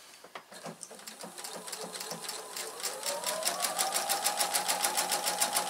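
Sewing machine stitching a pillow cover, starting with a few slow clicks then speeding into a rapid rhythmic needle chatter and motor whine, close and clear.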